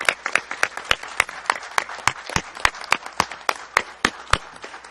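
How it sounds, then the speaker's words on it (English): A city council audience claps for its representatives, a fairly loud run of distinct, close claps in a quick, uneven rhythm, with no voices over it. "We can get a round of applause to our representatives"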